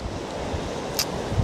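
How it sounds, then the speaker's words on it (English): Ocean waves washing below the clifftops at Robe, South Australia, a steady broad roar of surf mixed with wind buffeting the microphone. "Sound of the ocean"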